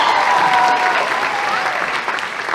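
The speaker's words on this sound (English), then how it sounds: "Let's give them one more round of applause." Audience applause after a school show, a dense steady burst of clapping from a full room that holds strong throughout and eases slightly near the end.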